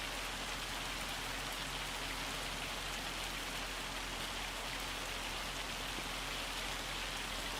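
Hail pelting down in Farming Simulator 25 during an August storm, a dense, steady hiss of drops drumming on surfaces that runs unbroken and loud throughout, with no talk over it.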